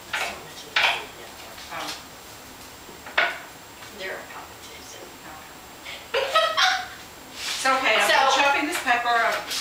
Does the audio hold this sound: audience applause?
no